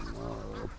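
Ducks on a duck farm in the Andaman and Nicobar Islands give a short burst of quacking, loud and close, lasting under a second.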